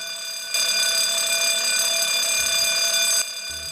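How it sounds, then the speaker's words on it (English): A loud electronic fire alarm sounds steadily for about three seconds in an aged care facility, a piercing continuous tone, with fainter alarm audible before and after. "when the fire alarm sounds"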